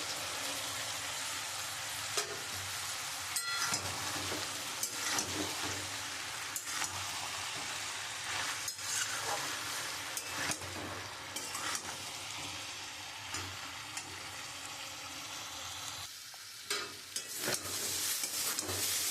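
Crushed fish roe frying with soft ivy gourd in a pan gives a steady, close sizzle with intermittent stirring scrapes and clicks throughout, and no talking.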